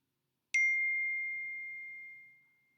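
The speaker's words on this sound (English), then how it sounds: "sorry if you keep hearing these dings, the messages" A single computer message notification ding sounds once, a clean bright chime that rings out and fades over about two seconds against near silence.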